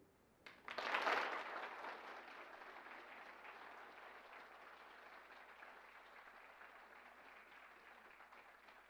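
An audience breaks into applause after a speech at an evening university speech showcase, a sudden burst that peaks quickly and then settles into steady, fainter clapping that continues throughout.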